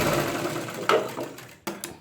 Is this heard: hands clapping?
no